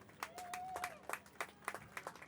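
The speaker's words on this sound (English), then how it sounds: "let's give them a round of applause." Scattered crowd clapping at a Fourth of July parade, faint and distant, with uneven individual claps and a brief whistle-like tone over open outdoor ambience.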